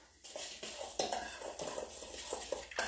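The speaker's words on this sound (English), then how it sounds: "And let's stir this all up." A spoon stirring churro batter in a bowl, a short run of quick, light scrapes and taps against the bowl, close and fairly soft, with no talking over it.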